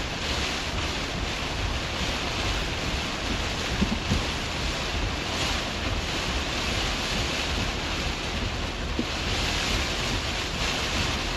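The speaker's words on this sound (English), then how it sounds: "Still pretty gusty though." Steady, roaring gusts of wind from Tropical Storm Chantal at landfall buffet the microphone, with a broad unbroken rush throughout that rises and falls slightly, loud and close with no voices.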